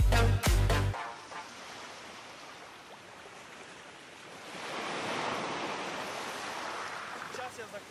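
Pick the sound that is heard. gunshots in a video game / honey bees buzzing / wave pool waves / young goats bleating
wave pool waves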